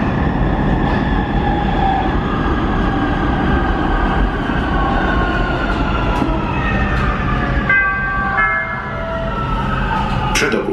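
Warsaw Metro M2 line subway train running at steady, loud volume, with a constant rumble and rising, whining motor tones that shift in pitch as it moves, and brief squeals near the end.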